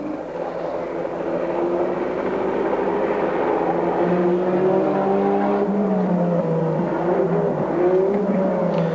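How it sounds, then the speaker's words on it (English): Nissan GT-R race car with a 2.5-litre twin-turbo six-cylinder engine at the 1991 Bathurst 1000 top-ten shootout, onboard engine note rising and falling through gear changes as it accelerates, loud and continuous with turbo whir; no talking. "Car 4, the GIO Nissan. Mark Gibbs is at the wheel."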